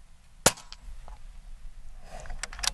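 An Air Venturi Avenger .22 calibre air rifle with a wood stock fires one sharp, loud, close crack, followed by quieter clicks and handling sounds as the next pellet is cycled.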